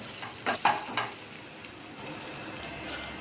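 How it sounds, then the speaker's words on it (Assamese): Potato pieces frying in a pan with turmeric and salt, a few quick stirring scrapes early on, then a soft, steady sizzle at a modest level. "আলুটো অকণমান ভাজি ল'ম,"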